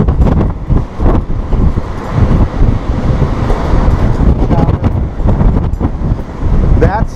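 Strong wind buffets the microphone on the open deck of the Norwegian Epic cruise ship, a loud gusting rumble that rises and falls throughout while a person talks over it.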